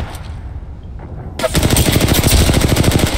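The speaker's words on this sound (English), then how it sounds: "Are they shooting at us? They're shooting our teammate." Gunfire erupts midway through a shootout in a first-person video game: a rapid automatic burst of loud, dense shots that continues to the end after a quieter stretch of background game sound.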